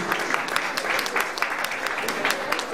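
Live concert audience applauding musicians, a loud, continuous clatter of many hands clapping with a few sharper individual claps standing out, close and steady throughout.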